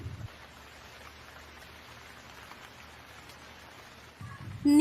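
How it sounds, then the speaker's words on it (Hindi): Steady, dense rain hiss holds throughout, fairly even and close, with a louder burst of low rumble and a brief tonal sound at the very end. "एक दिन गांव में बहुत जोरों की बारिश हो रही थी।"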